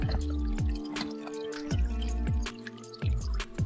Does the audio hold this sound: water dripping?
yes